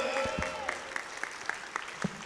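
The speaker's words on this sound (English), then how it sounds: "Let's give them another round of applause." Audience applause at a Stockton community environmental event, a steady wash of clapping with a few sharper individual claps standing out, moderately loud and fairly close, no voices over it.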